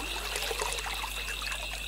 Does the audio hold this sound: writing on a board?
no